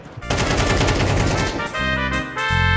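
Rapid gunfire in the video game Counter-Strike 2, loud and nearly continuous bursts filling the whole stretch with dense, overlapping shots.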